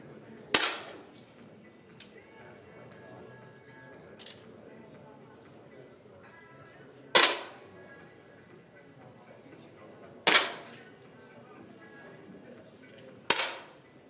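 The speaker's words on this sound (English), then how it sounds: "We have a constant shooting from Michele Bernardi" Rifle shots at a youth shooting championship bronze match, five sharp single cracks spaced several seconds apart in a quiet indoor range, each with a brief echoing tail and faint background activity between shots.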